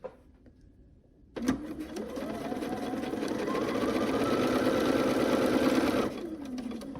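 A sewing machine stitches navy blue fabric quilt pieces, running as a steady close motor whir that starts abruptly, holds for about four and a half seconds and then stops, with a quiet lead-in before it.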